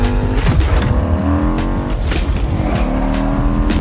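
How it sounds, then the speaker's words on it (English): A high-output 121 engine revving loudly through its exhaust pipes, a close, sustained harsh drone with rising and falling pitch and no speech over it. "It's putting a lot of air through those exhaust pipes."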